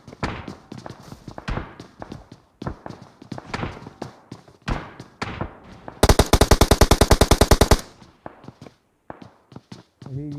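Gunfire in a battle royale game: scattered single shots and thuds, then a fast, loud automatic burst of about two seconds, followed by more sporadic shots.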